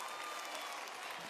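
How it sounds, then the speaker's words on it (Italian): A large outdoor concert crowd applauds students in a dense, steady wash of clapping heard from a distance, brief and fairly faint. "Facciamo un applauso agli studenti"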